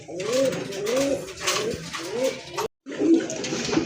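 Lahori pigeons at a pigeon farm giving repeated rhythmic throaty coos, close and clear, with a short gap near the end before the cooing resumes.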